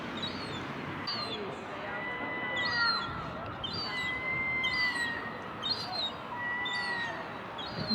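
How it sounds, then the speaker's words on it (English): Seagulls cry repeatedly at a harbour on a calm morning, their calls coming moderately near over a steady outdoor ambience. "You hear the plaintive cry of the seagulls."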